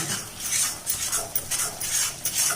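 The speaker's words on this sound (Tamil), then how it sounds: "நல்லா அடியிலேருந்து சேர்த்து நல்லா மிக்ஸ் பண்ணிக்கோங்க" A metal spoon scrapes and clatters steadily against a pan as onion thokku is stirred from the bottom, close and busy with repeated scraping strokes and no talking.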